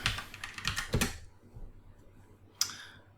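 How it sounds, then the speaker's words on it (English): Quick burst of keystrokes on a computer keyboard, a close, dense run of clicks in the first second, then quiet and a single sharp tap near the end. "let's say I go here and I type in air mattress"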